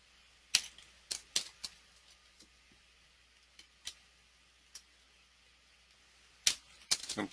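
Computer keys click in scattered, sharp taps, some in quick little bursts and others alone with gaps between, faint and close in an otherwise quiet room.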